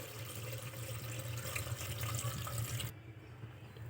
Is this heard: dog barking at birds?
no